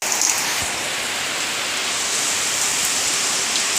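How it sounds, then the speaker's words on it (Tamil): Heavy rain pours down in a steady, dense hiss of drops that never lets up, loud and close, with no voices over it. "பாருங்கள் ஃப்ரெண்ட்ஸ், மழைன்னா மழை, என்ன மழை தெரியுமா ஃப்ரெண்ட்ஸ்"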